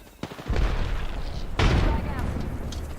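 A frag grenade explosion in Apex Legends: a sharp pop, then a heavy booming blast around the middle with a lingering rumble, loud and close in game audio.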